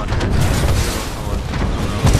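A rocket launcher fires in the Titanfall 2 campaign, giving a loud, deep booming blast with rumbling low-end that fills the moment and swells again at the end.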